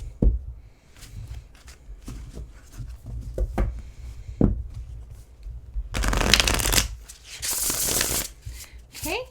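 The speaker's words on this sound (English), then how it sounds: "Okay, yeah, feels good for a side shuffle." A tarot deck with foil edges being shuffled by hand, several crisp riffling and side-shuffle bursts with soft handling taps and rustles between them, close and fairly quiet.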